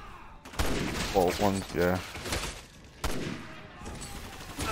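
Single-shot sniper rifle fire in Resident Evil 6: one sharp, loud report, then players chatting, then a second crack a few seconds later.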